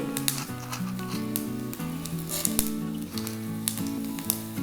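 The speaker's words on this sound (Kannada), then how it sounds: "ಎಣ್ಣೆ ಕಾಲಿದೆ ಸಾಸಿವೆಯನ್ನು ಹಾಕ್ಕೊಳ್ತಾ ಇದ್ದೀನಿ ಕಾಳು ಮೆಣಸು ಒಂದು ಹತ್ತರಿಂದ ಹನ್ನೆರಡು ಕಾಳು ಮೆಣಸುಗಳನ್ನು ಹಾಕ್ಕೊಂಡ್ರೆ ಸಾಕು ಜೀರಿಗೆ" Mustard seeds, black pepper and cumin crackle in hot oil with scattered sharp pops and a light sizzle, sitting beneath steady melodic background music, with no talking.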